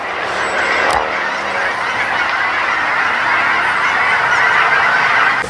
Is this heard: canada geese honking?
yes